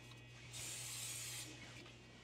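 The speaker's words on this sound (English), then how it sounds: "I'm going to hit it with a little bit more pan spray." A short hiss of cooking spray bursts for about a second into a HexClad pan against a quiet kitchen background with a low hum.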